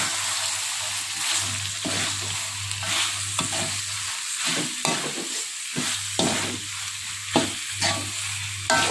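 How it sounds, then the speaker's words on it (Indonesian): Fried tempeh and tofu being stirred in a sizzling pan for tongseng, with steady scraping and stirring strokes over continuous frying sizzle, close and fairly loud with no talking. "Nah, ini kita aduk rata."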